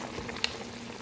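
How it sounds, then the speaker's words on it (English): Nigerian chicken stew simmering in its own juices in a pot, a soft steady bubbling and faint sizzle throughout, close and quiet with one brief tick partway through. "It's cooking in its own juice."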